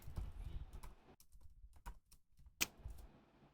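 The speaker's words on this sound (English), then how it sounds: "Hang on, I'm just typing." Soft, irregular clicks of fingers typing on a computer keyboard, close and quiet, in short bursts with brief pauses between keystrokes.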